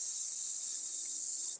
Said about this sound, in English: I want to hear a little sizzle